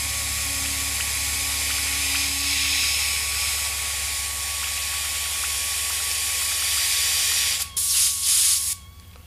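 Airbrush spraying orange paint thinned with reducer, a steady close hiss holding for several seconds before breaking into short bursts at the end.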